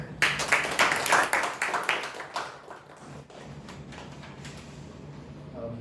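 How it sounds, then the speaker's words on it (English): A round of applause greets a speaker at a Toastmasters meeting, a modest room of people clapping briskly at first, then thinning out and fading to quiet room tone after about three seconds. "let us call upon with a big round of applause Toastmaster Hiren"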